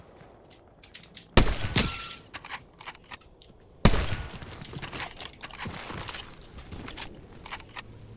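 Gunfire in Fortnite Zero Builds trios, with two sharp loud bursts followed by a scatter of smaller distant shots and clicks across the rest of the stretch.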